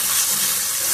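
Tomato pieces and green chilies frying in ginger garlic paste for a spiced fish curry give a loud, dense, unbroken sizzle throughout, close up and with no voices.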